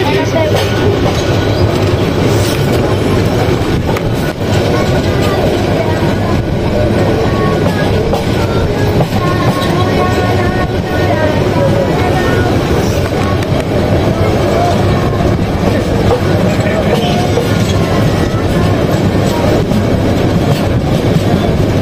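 Kishorganj Express train running steadily after leaving Narsingdi station, with a constant loud rumble and rattling wheel clatter throughout, heard from on board.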